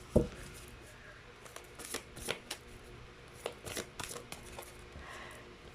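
Tarot cards are shuffled and pulled from the deck, giving soft, close riffling and a string of light taps and flicks at a quiet level.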